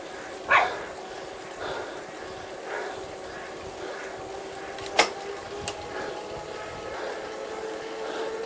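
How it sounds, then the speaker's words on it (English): A dog barks in short bursts in the background, fairly distant and intermittent, over a steady electronic hum from a racing game session. "Oh no, the dog's going mental. Ignore the barking."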